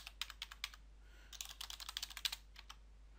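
Fingers typing a value on a computer keyboard, two short bursts of quick, light key clicks separated by a pause, faint and close in a quiet room.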